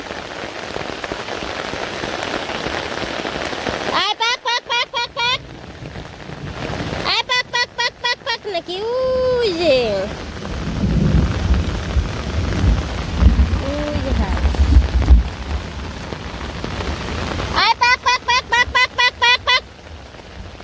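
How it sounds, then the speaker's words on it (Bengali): Steady rain patters throughout in a village outdoors, with people talking in bursts over it and a low rumble in the background. "বৃষ্টি আছে বৃষ্টির মধ্যে"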